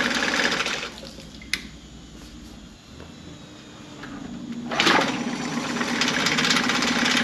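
A running Mercury 9.9 four-stroke outboard motor drones steadily, cuts out into a quieter hum, then cranks and roars back up to a steady run.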